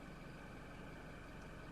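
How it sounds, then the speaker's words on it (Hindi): Diesel engine of a Toyota Revo pickup idling right after a push-button start, a steady low rumble and hum that stays even and constant throughout with no voices. "इसकी साउंड भी डीजल इंजन की काफ़ी मैसिव है"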